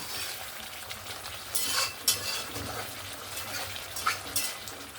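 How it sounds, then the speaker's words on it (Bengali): Fried fish and potato being stirred into a sizzling spice masala in a pan, a steady soft frying hiss with occasional scrapes and clinks of a spoon, no talking. "ভেজে রাখা মাছ আর আলুটা দিয়ে ভালো করে মশলার সঙ্গে মিক্স করে নেব"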